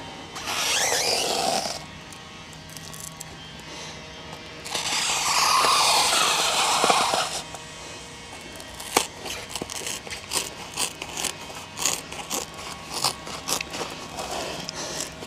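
A blade slits open a length of Armaflex foam pipe insulation for an AC vapor line, two longer rasping cutting strokes followed by a series of short crackling snips and tearing sounds, close and moderately loud.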